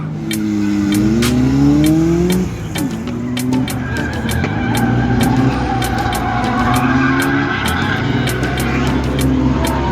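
A drift car at an import car show track skids and revs, engine pitch sweeping up and down over steady tire squeal for the whole stretch, loud and close.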